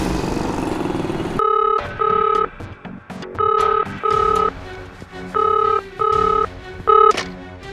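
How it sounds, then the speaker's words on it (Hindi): A telephone rings in repeated paired electronic bursts with short gaps between them, loud and close indoors, following a stretch of background noise. "सर, श्रेया का फ़ोन है सर।"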